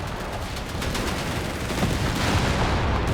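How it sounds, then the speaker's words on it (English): Company of Heroes 3 tank battle, with tank rounds glancing off a German Panzer IV: a dense, steady clatter of gunfire and impacts at mid-distance, without talk. "They're bouncing a lot of shots against this Panzer IV."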